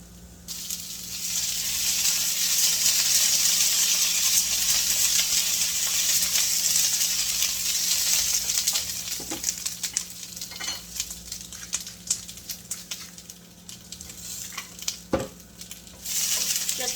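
Snow peas and onion browning in a hot pan, a steady loud sizzle throughout with occasional clicks and light scraping from stirring, no talking.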